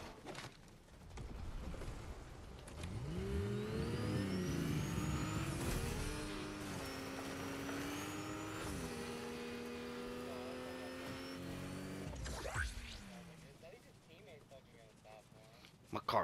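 A car engine in the video game Fortnite revs up loudly and holds a high, whining drone for several seconds with pitch shifts, then cuts off and fades.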